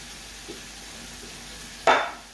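Chopped tomatoes from a tin being stirred into a simmering chicken curry: a near-silent pot, then one short, loud wet scrape and slosh close by near the end.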